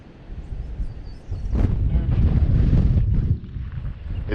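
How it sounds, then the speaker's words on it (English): Wind buffets steadily across open water from a small fishing boat, a loud, rushing roar that swells in gusts and stays close to the microphone throughout. "The wind shifted."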